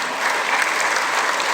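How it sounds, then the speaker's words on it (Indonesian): Audience applause at a morning police-reform presentation in Indonesia, a short burst of dense, even clapping from a crowd, moderately loud and steady. "Tepuk tangan untuk beliau."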